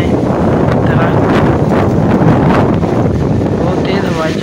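Strong evening storm wind blowing through trees, a loud continuous roar with gusting surges and heavy buffeting on the microphone.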